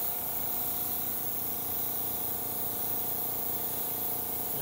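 An airbrush with flow improver in the paint sprays steadily onto model butterfly wings, a continuous close hiss that holds unbroken for several seconds with no talking.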